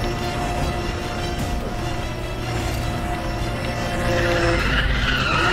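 Tires skid and squeal as a car drifts in the racing video game Need for Speed The Run, a continuous loud screech over engine roar and game music, swelling near the end.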